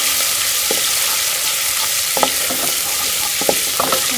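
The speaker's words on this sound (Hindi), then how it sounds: "तो यहाँ 1 से 2 मिनट जो है वो लहसुन अदरक के पेस्ट को अच्छी तरह से भून लेंगे।" Garlic and ginger paste fries in a pan for Indian-style pumpkin leaf greens, giving a steady close sizzle with a few soft clicks of a spoon stirring it.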